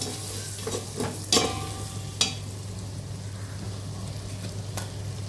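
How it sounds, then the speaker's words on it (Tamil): Masala frying in a pan with a steady sizzle, a few sharp scraping stirs of a spoon against metal, close and fairly quiet, no talking. "3 ஸ்பூன் மசாலா இதில் போட்டு இப்போ இது நல்லா வதக்கிக்கலாம்."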